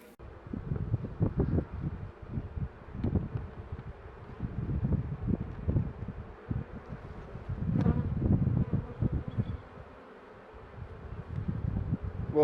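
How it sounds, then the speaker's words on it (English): Honey bees hum at an open hive during a winter inspection, a close, continuous buzzing that swells and fades in waves over soft outdoor noise and light wind. "This hive, the Paradise Honey Bee Box, doing absolutely fantastic for this time of year."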